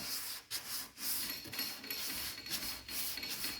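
Rhythmic rasping strokes of a sanding block working over primer on a 1963 Cadillac Coupe DeVille body, steady back-and-forth passes about twice a second, close and fairly loud with no talking.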